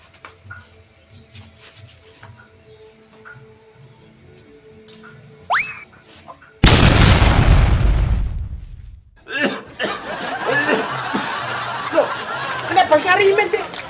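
A sudden loud blast rings out midway and decays, followed by crackling pops and noisy bursts, with scattered quiet voices and background sounds before it.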